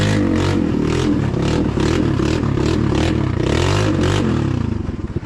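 A snowmobile bought online from China moves off in forward gear, its engine revving loudly and steadily throughout with rattling and scraping clatter, close by and with no talk.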